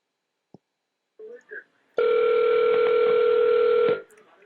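A steady telephone dial tone fills the second half after brief faint sounds, during a call placed to the Boeing company; the tone is loud, continuous and alone, then cuts off.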